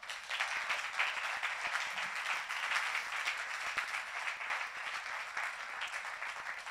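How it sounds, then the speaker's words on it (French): A church congregation applauds its new members: steady, sustained clapping from a large crowd, heard at a slight distance and evenly dense throughout. "Et nous pouvons tous les applaudir."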